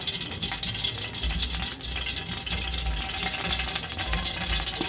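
Cooking oil heats in a pot, sizzling and crackling in a steady, fairly loud hiss that continues without pause, with no voices.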